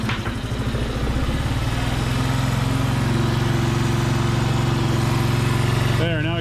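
A Honda ATC125 three-wheeler with a rebuilt high-compression 130cc engine runs steadily at close range, low on fuel, with a loud continuous buzzing putter that briefly shifts pitch at the very end.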